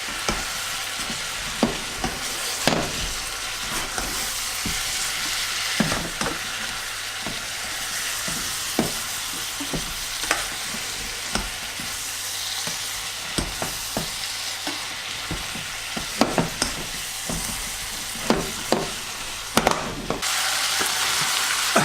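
Onions, ginger and pepper fry in a pan for garlic and onion soup, a steady broadband sizzle broken by repeated sharp clicks and scrapes of stirring, close and fairly loud throughout with no voices.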